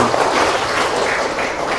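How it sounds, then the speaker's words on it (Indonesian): A classroom of students claps together, a short, dense burst of fairly loud applause lasting the whole moment with no talking over it. "Terima kasih. Tepuk tangan."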